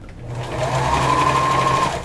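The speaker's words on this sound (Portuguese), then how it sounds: "passando uma costura reta aqui" Sewing machine running a straight seam on panties, a short close burst of rapid stitching with a steady whirring motor that ramps up and then stops.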